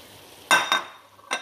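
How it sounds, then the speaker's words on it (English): A utensil stirs eggplant, spring beans and bitter gourd in a pan, three short scraping clatters close by with a faint sizzle between them. "the eggplants, the spring beans, and the ampalaya. And mix it."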